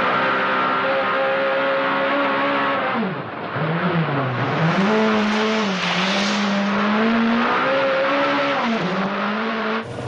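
A rally car driven by Ari Vatanen slides sideways through a corner under countersteer, its engine droning loudly and steadily. The pitch dips once, then climbs and wavers as the car holds the slide.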